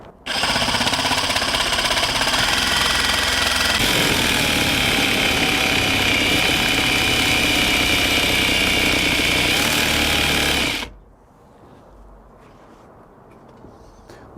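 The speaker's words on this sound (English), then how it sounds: "the 18 TPI torch blade starts quite fast, and then it kind of slows down in the cast iron" A Milwaukee M18 Fuel second-generation Sawzall reciprocating saw fitted with an 18 TPI torch blade cuts through cast iron, a loud harsh rasping buzz that runs about ten seconds before stopping abruptly into quiet.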